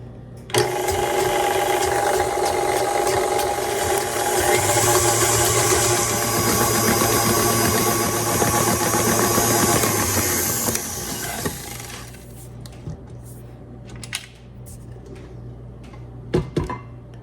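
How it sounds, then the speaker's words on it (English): An electric mixer churns shortcake batter with a loud, steady motor whine that runs for about eleven seconds before shutting off, followed by a few scattered clinks and knocks. "We are going to mix this in our mixer or with our mixer now for 5 minutes."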